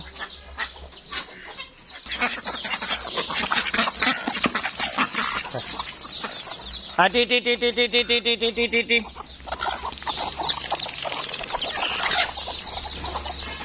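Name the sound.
chickens clucking while feeding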